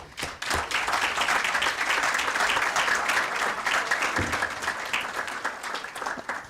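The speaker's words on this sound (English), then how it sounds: "give a proper round of applause for the morning" A conference audience at the DataFest Africa 2024 opening session gives a full round of applause. The dense, steady clapping starts abruptly, holds at an even level for several seconds and then thins slightly toward the end.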